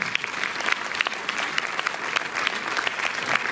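An audience in a full cinema hall applauds to welcome the director and screenwriter onstage, a dense, even patter of many hands clapping close by with no pause.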